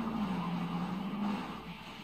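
A truck skids and rumbles past in Sonic Adventure 2 on PS3, a steady low engine roar with faint tire scrape that slowly fades, with no talk over it.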